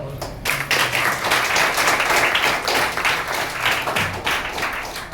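A school audience breaks into loud, dense applause, many hands clapping together in a sustained roar that swells and holds for several seconds before tapering off.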